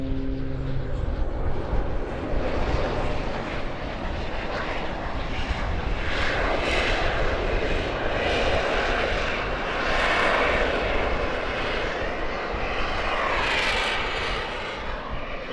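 A jet-powered Pitts aerobatic plane flies at the Antidotum Airshow 2024, giving a continuous, loud, broad engine roar that holds steady for the whole stretch, with slight swells as it passes.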